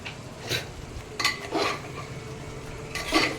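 Mutton curry with garlic and turmeric stirred in a metal pan, giving a few scraping, swishing passes of a spoon at irregular intervals, close and moderately loud.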